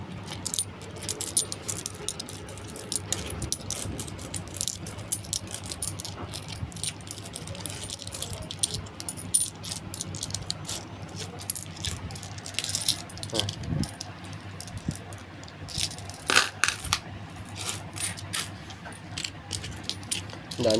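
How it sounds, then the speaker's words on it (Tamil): Loose Indian coins, including ₹5, ₹2 and ₹1 pieces, are sorted and picked up by hand from an old collection, a continuous close jingle and clatter of metal clinking together, with faint talk in the background. "இப்போ ₹5 காயின் இன்னும் கொஞ்சம் கொஞ்சமாக பொறுக்கணும்."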